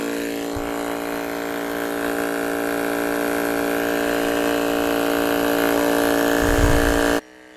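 A FlowJoe Gas Guzzler 12-volt fuel transfer pump hums steadily and loudly while pumping fuel, a constant close electric drone with a slight rise in tone before it cuts off abruptly at the end.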